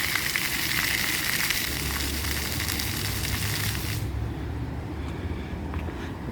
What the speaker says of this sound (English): Every once in a while the fountain switches from outside to inside.